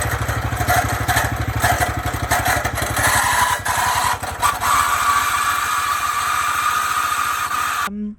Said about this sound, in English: The engine started making this excruciatingly loud noise.